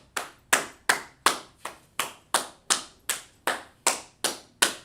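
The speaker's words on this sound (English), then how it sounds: "Clap it up for him." Rhythmic, evenly spaced clapping for a student during an online class, about a dozen crisp, close claps in a steady beat with short decays and no talking.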